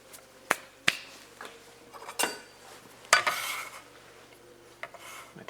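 A bench scraper stirs onion and potato in a pan for a Spanish tortilla, giving scattered scraping clacks and metallic knocks against the pan, moderately close and without any talk.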